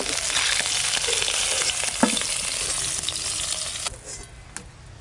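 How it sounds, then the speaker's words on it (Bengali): Duck eggs fry in hot oil in a home kitchen, a loud, steady sizzle that thins out near the end, broken by a few sharp utensil clicks, with no voices. "ডিমগুলো ভালো করে ভাজা হয়ে গেছে, তুলে নেব"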